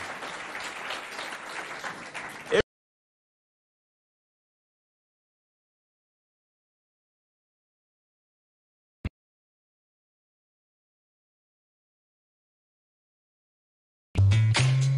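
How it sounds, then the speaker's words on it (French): A school audience at a lycée quiz contest in Doba, Chad, breaks into dense, loud applause for about two and a half seconds before it cuts to silence, followed by a lone click and a brief burst of sound near the end. "Applaudissez bien fort pour vous, les deux balais."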